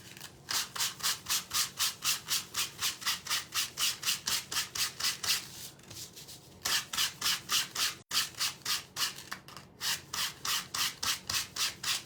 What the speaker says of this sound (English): So we're going to go ahead and sand our brim.